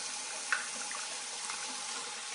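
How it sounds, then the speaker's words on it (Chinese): Water runs from a tap while someone washes their face after a beauty treatment, making a faint, steady hiss with a couple of soft splashes. "我而家洗一洗塊面先。"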